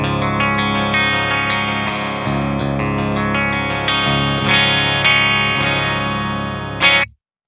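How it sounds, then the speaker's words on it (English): Electric guitar on a bridge pickup playing through the clean channel of a Synergy SYN20IR amp module, sustained chords ringing steadily with a slight effected sheen, then cutting off sharply near the end, with no voices. "this is the clean tone on the SYN20IR"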